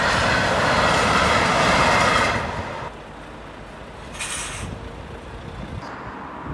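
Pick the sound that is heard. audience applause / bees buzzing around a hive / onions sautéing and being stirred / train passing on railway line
train passing on railway line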